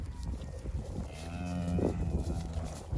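A cow on a Kentucky farm moos loudly and close by in a long, drawn-out call, with a second lowing sound rising partway through over steady outdoor background noise and no talking.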